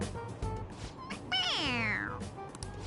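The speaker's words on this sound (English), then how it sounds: "It meows when you press on its head." A toy cat lets out a single clear, bright electronic meow when its head is pressed, rising and then sliding down over about a second and loud and close, with faint room noise before and after.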